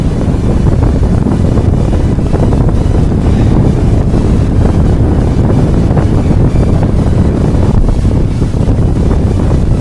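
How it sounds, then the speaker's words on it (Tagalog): Heavy wind buffets the microphone during a road bike ride in a constant low roar for the whole stretch, loud and unbroken, with no voices. "Sobrang lakas na ng hangin kasi."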